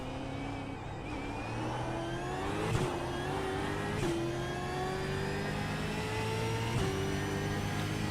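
Supercar engine in the iRacing sim, holding a high, tonal whine with quick upshift dips and climbs in pitch, steady and alone without talk.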